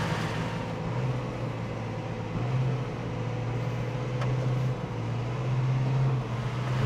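A New Holland T6.175 tractor engine drones steadily up close, its low hum dipping and rising slightly in pitch as the throttle is blipped through gear changes.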